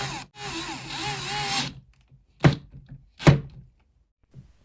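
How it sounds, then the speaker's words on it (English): A power drill with an Allen bit tightens a bed leg on an ottoman bed: a short buzzing burst, then two sharp knocks with quiet gaps between them, heard close up with no voices. "then subsequently use the drill with the Allen bit to give it a tight fit"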